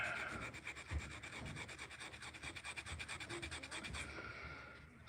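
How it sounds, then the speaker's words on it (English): Emery cloth and sandpaper rub back and forth on a furnace part in quick, even strokes, a soft close-up scratching rasp with no voices. "So I went and got some emery cloth and sandpaper."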